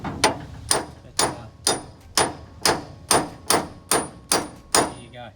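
A hammer strikes a tight screw on a Tri Five Chevy pillar during a four-door to two-door conversion, about eleven sharp metallic blows in a steady, even rhythm, loud and close.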